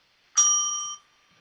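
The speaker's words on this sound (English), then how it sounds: "that's our just under 3 minutes bell" A single bell rings out as a time-limit signal at a conference opening plenary, a bright clear ding sustained for about half a second before cutting off, heard alone with no talk.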